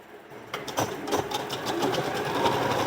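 Sewing machine running steadily as a fabric strip is stitched onto the neck of a blouse, a close, continuous mechanical whir with rapid needle clatter that picks up and holds a fast, even rhythm.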